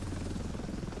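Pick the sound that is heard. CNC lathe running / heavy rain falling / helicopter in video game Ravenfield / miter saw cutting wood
helicopter in video game Ravenfield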